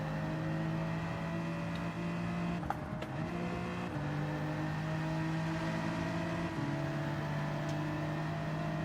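A race car engine in the video game Gran Turismo 7 holds a steady, loud drone at high revs, with brief dips at two gear shifts before it settles back into the same constant whine.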